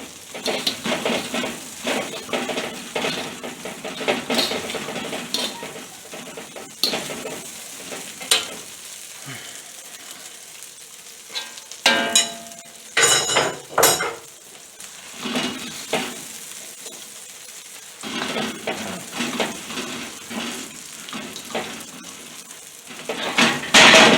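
Chow mein noodles stir-frying in a pan, with a steady close sizzle broken by repeated scraping and tossing strokes of the utensil against the metal, louder bursts clustering in the middle and the closing seconds.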